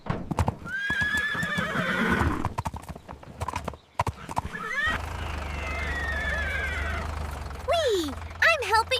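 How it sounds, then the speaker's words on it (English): Cartoon horses whinny loudly and their hooves clip-clop in a steady run of hollow knocks as they climb a ramp at a farm, with an animated voice talking over parts of it. "Up the ramp, slowly,"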